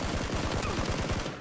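Rapid bursts of automatic gunfire in PlayerUnknown's Battlegrounds, loud and close, a dense rattling stream of shots with no pauses.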